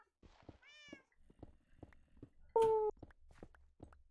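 A cat gives a couple of short, clear meows, one early and one louder midway, between soft footsteps and small tapping noises in a quiet indoor room.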